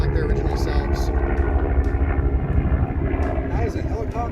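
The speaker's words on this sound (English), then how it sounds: "That is a helicopter." A helicopter flying in a retro video game, a continuous droning rotor and engine noise at steady loudness, with a voice talking over it.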